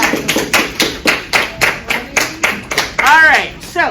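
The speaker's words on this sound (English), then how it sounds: "The applause that I so richly deserved at the time." A few people in an audience at a summer reading book talk clap a short run of slow, evenly spaced hand claps. A voice speaks near the end.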